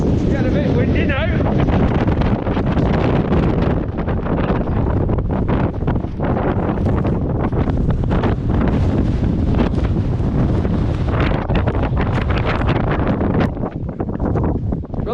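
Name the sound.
strong wind on Lake District fell summit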